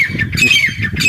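Male Irani teetar partridge on a farm gives loud, close squawking calls, several harsh bursts repeating quickly across a second with no talk.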